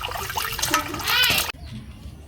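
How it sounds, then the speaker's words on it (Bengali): Water running over freshly cut fish being washed, a splashing, gushing stream with clattering handling sounds that cuts off abruptly partway, leaving a quieter background with faint voices. "তো এই যে এখন মাছটি ধুয়ে নিতেছে।"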